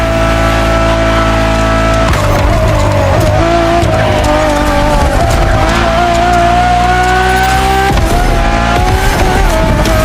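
A Ferrari Enzo screams along in The Crew Motorfest, its engine a loud, steady, high-revving wail that climbs through gears with brief dips at shifts, close and constant throughout.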